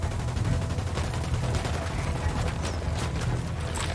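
In Ghost Recon: Wildlands, a steady spray of rapid gunfire fills the scene as a squad opens up on an emitter, fairly loud continuous shots with sharper cracks near the end.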